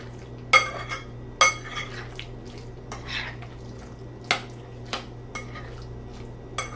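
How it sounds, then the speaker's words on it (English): A spoon mixes fresh homemade guacamole ingredients in a bowl, giving sharp, spaced clinks and taps against the dish, with soft wet stirring between them. "Now with my spoon, kind of just mix all these ingredients together."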